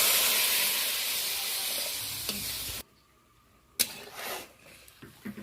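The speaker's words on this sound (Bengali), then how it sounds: "গরম জলটা দিয়ে দিলাম।" Hot water poured into sizzling spice masala for a sole fish kalia curry gives a loud hissing burst that cuts off abruptly, followed by quieter bubbling and a few clinks.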